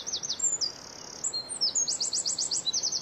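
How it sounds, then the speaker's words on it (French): A songbird in the Belgian countryside in spring sings close by in bright, high chirps and rapid repeated trills. There are no other sounds. "Les signes les plus beaux du printemps seront toujours les chants d'oiseaux."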